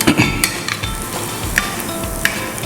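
Burani raita is mixed with cumin powder in a bowl: close, steady wet stirring with scattered light spoon clicks against the bowl.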